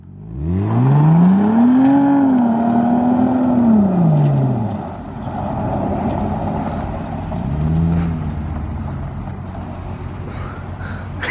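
A Chevrolet Camaro SS accelerates hard on a dusty surface, its engine rising in pitch and howling loud and close for several seconds, then fading to a lower rumble with a shorter second rev.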